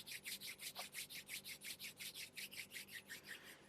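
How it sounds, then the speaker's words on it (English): Palms briskly rubbed together during a yoga session, a quiet rhythmic swishing with about five quick strokes per second, close and soft, with no talking. "Please bring the hands into the heart and rub the palms."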